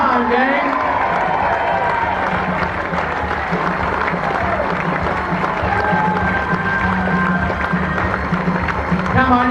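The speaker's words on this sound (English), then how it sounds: "Give them a big round of applause, but I want you all to stand" An audience applauds Lonnie Lee and the group at a live show with sustained, loud clapping mixed with crowd noise, and voices can be heard under it.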